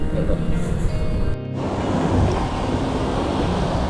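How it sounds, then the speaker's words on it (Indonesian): Surf at Ranca Buaya beach on the south coast of West Java, a loud, constant roar of breaking waves with wind buffeting the microphone, broken by a brief cut partway through. "Seperti ini kondisi terkini Pantai Ranca Buaya teman-teman."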